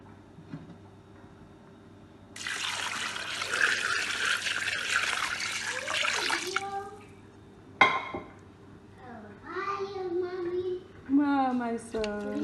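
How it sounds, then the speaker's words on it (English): Water pours steadily into a pot of okra soup for about four seconds with a rushing splash, followed by a clank and people talking nearby. "Then we are going to add water."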